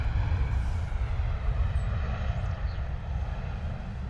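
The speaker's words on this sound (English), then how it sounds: "Ryanair coming in from Malaga. Boeing 737," Deep, continuous engine rumble from a Ryanair Boeing 737 arriving from Malaga at London Stansted Airport, loud and steady with a heavy low roar and a faint high whine above it.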